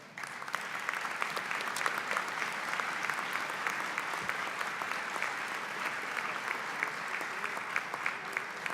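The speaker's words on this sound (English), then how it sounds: "Would you give them a round of applause?" A large commencement audience applauds faculty and staff in a steady, continuous wash of clapping, moderately distant and sustained without letup.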